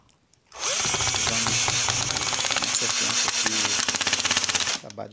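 Electric screwdriver whirring for about four seconds as a screw is driven into an Electrolux MEF41 microwave, loud and close, with a slight pulsing as it bites and then stops.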